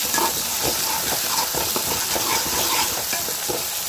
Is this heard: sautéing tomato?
yes